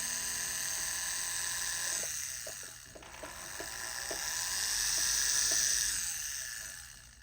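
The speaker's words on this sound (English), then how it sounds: "So now we need to drill that out." A small high-pitched drill whines steadily while drilling out a pin in a San Marco bracelet, with a series of faint clicks and taps partway through and the pitch swelling and easing.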